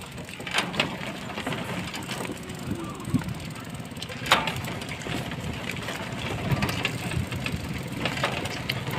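A motorized pedicab's engine runs steadily through a ride, a continuous low mechanical drone with rattling and clicking parts, moderately close, with brief bursts of nearby activity.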